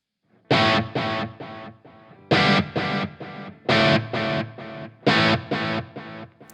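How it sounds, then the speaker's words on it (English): A distorted electric guitar plays four repeated chord phrases, each trailing off in soft, darker echoes from a T-Rex Replica delay pedal with its high cut filter rolling off the highs. "you also have another possibility to filter the high frequencies with a high cut"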